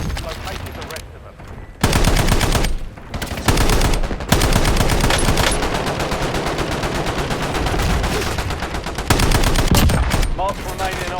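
Rapid automatic gunfire in a Warzone quads match comes in dense, loud bursts separated by short pauses, with sharp individual shots and brief callout voices mixed in.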